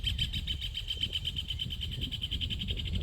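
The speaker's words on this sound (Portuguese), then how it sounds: "como os passarinhos estão fazendo aqui nesse momento" Birds sing outdoors in a quiet setting, with a fast, rapidly repeating high chirping trill that runs steadily throughout, moderately close and faint over soft low background rumble.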